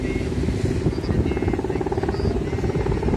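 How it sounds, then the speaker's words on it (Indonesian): Police helicopters flying over a fire give off a loud, steady rotor drone with rapid chopping. It is close and constant, with a voice faintly under it. "3 buah helikopter."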